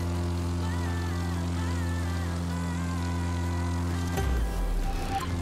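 A propeller airplane engine in The Crew 2 drones with a steady buzzing hum, loud and continuous, then shifts abruptly into a rougher, louder roar near the end.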